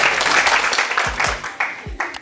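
A crowd applauds a newly elected president at an assembly, with sustained clapping from many hands and a few sharp louder claps standing out near the end, a voice mixed faintly underneath.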